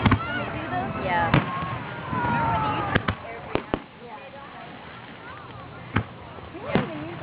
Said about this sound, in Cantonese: 每一個煙花爆出嚟好似真係炸彈咁爆出嚟啦